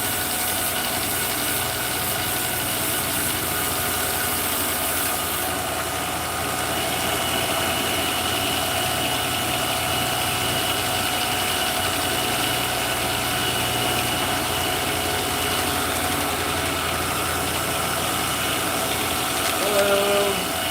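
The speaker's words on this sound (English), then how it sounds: "time to get some grinders in" A grinder smooths out sanding marks on knife handles, running as a continuous, steady mechanical drone for about twenty seconds at close range.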